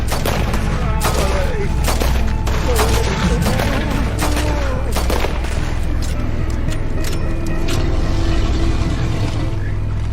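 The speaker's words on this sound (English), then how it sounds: "Keep shooting." Gunfire in Red Dead Redemption 2: repeated sharp gunshots and booming volleys in a loud, dense battle, with a heavy engine-like rumble beneath and voices shouting at times.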